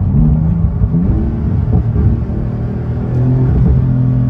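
A Porsche GT2 RS running on its stock exhaust holds a loud, steady low engine rumble close by, with slight swells in revs and no talking over it.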